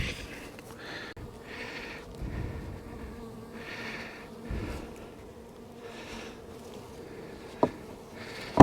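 Bees buzz continuously at close range, the droning rising and falling as insects move around, with a few faint knocks and thumps.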